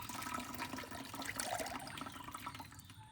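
Compost tea running from a colander down into a bucket, a steady broadband trickle and splash of liquid that holds for the whole stretch and eases off slightly near the end, close by with no talking.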